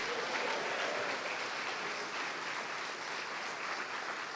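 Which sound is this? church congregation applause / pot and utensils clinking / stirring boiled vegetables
church congregation applause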